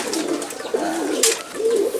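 Silver pigeon cooing up close in a low, soft, repeated rolling coo, with a brief rustle partway through and faint background noise.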